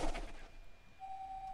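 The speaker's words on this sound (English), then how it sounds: "it sounds like cannon fire to me" Cannon fire in the video game Owlboy: a single loud, booming blast right at the start that quickly fades into a quiet, lingering hum, with no voices.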